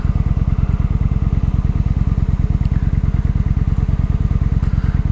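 Kawasaki Vulcan cruiser motorcycle engine idling close by, a loud, low, evenly pulsing thump that holds a steady rhythm throughout with no voices.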